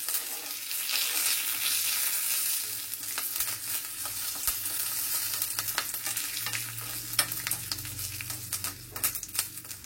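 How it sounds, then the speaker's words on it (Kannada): Curry leaves fry in hot oil for a tempering, with a steady sizzle and sharp crackling pops throughout, plus the scrape of a spoon stirring the pan. "ಕರಿಬೇವು ಆಡ್ ಮಾಡಿ ಚೆನ್ನಾಗಿ ಫ್ರೈ ಮಾಡಿ"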